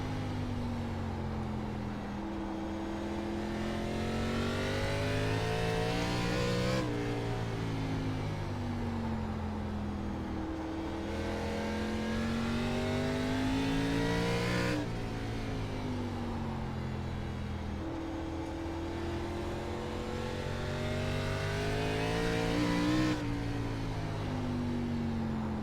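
Several race car engines in the iRacing ARCA Menards Series at Southern National drone continuously at close range, their pitch rising and falling through repeated gear-like sweeps as a car spins out on the front stretch, with no talk over them.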